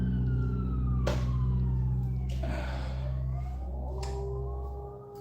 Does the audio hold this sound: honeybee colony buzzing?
no